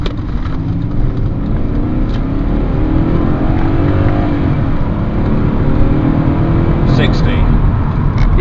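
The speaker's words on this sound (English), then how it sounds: "So I'll do an 0 to 60 test now." A BMW E39 535i with a V8 engine accelerates hard from a standstill, its engine note rising steadily as it revs through the run. The sound is loud and continuous from inside the car.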